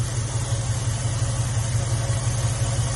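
A 1966 Plymouth engine idles steadily, close by, with a deep, even low rumble and a continuous mechanical hum, no changes in speed and no voices.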